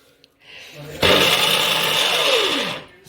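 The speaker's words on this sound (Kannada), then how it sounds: "ಮಿಕ್ಸಿ ಸೌಂಡ್ ಬರ್ತೈತೆ ನೋಡಿ" A mixer grinder whirs loudly and steadily for about two seconds after a brief lower hum, then winds down with a falling pitch.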